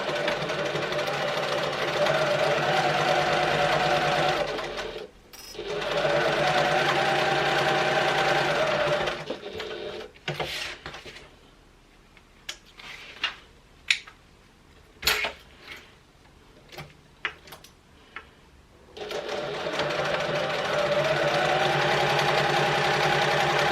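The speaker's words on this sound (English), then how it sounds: "So we're just going to stitch these two shorter edges, 1/4 inch seam allowance, and I'm going to drop down my stitch length." A domestic sewing machine stitches the two short edges of a clutch wallet at a quarter-inch seam with a shortened stitch length, running in steady loud whirring bursts separated by a stretch of small clicks and handling noises.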